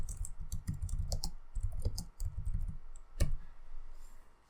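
Computer keyboard typing while editing text in Blender, with bursts of quick clicky keystrokes in irregular clusters, close and moderately loud, one sharper key strike standing out near the end.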